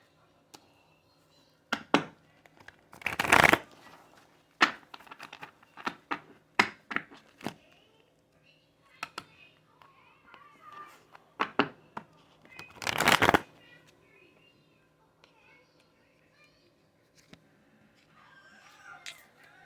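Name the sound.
shuffling tarot and oracle cards for a reading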